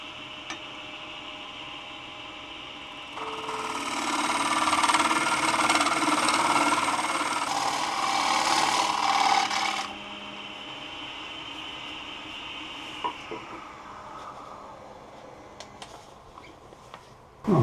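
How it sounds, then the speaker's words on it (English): Wet, punky spalted alder bowl blank roughed out on a wood lathe with a scraper, a steady motor hum with a louder broadband cutting rush swelling for several seconds mid-clip, then settling back to the running lathe; no talking. "I'm going to continue roughing this out with the scraper"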